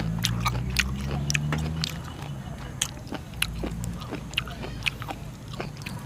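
Close-up bites and crunchy chewing of pomelo fruit, a series of sharp irregular crunches and wet chomps at close range over a low steady background hum.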